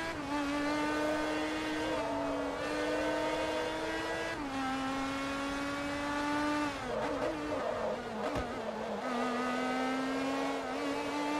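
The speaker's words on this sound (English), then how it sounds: "Oh, the engine sounds awesome as well." A GT1 race car engine in Forza Motorsport 3 holds a steady, loud, buzzing high-rev drone, with pitch shifting on gear changes and a brief dip and climb near the end, with no talk.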